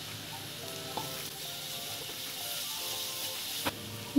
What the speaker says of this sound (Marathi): हे मिश्रण आपण छान तेल सुटेपर्यंत परतून घ्यायचं आहे।